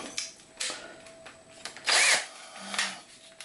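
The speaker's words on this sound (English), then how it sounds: "And I'm going to use my electric drill," An electric drill driving a screw into a workbench during assembly, in several short whirring bursts of varying length, close and loud, with the last burst the strongest.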